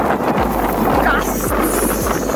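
Strong wind gusting on an open beach at De Hoop Nature Reserve, a loud, constant roar buffeting the microphone with heavy low rumble throughout.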